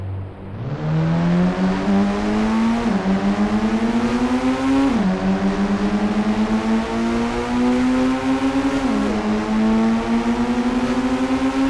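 Engines of racing cars wail steadily in the Indian Bikes Driving 3D video game, a Darson against a Lamborghini version 2, the pitch climbing through each gear and dropping sharply at every shift, continuous and loud with no talk.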